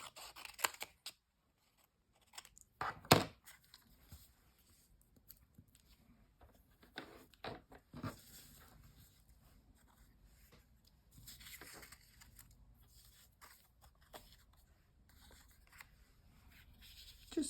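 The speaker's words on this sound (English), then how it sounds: "Just going to cut that off." Scissors snip through paper for a stamped, watercoloured collage tag: scattered soft clicks and crisp cuts, with one sharper snip near the start and quiet rustling between them, close by and with no talking.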